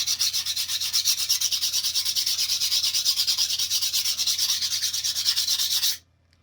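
A hand file rasps against a raw sky blue sapphire in rapid, even back-and-forth strokes, close and steady for about six seconds before stopping abruptly.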